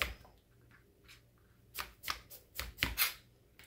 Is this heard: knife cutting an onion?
yes